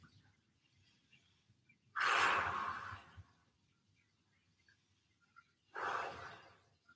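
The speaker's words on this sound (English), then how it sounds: "Big deep breath." Two deep breaths during a recovery workout stretch, each a loud, breathy rush of air close to the microphone, separated by several seconds of near silence.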